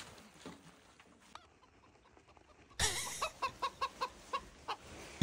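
A chicken clucks in a quick series of sharp, loud calls that start abruptly partway through, after a quieter stretch of faint background noise.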